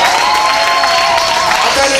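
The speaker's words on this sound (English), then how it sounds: "Can y'all clap it up for me, Chris, real quick?" Audience at a stand-up comedy show claps steadily for the full stretch, a dense, continuous applause with crowd noise and a voice or two mixed in.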